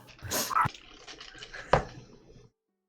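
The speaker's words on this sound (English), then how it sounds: "I'm so sorry my dogs are barking." Several dogs bark indoors in a few short, loud bursts with quieter rustling between, heard alone without talk.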